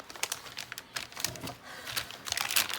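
A craft blade cutter slicing through packaging, heard as a close, quiet run of crisp scratchy cuts and crinkles in irregular bursts, with no talking.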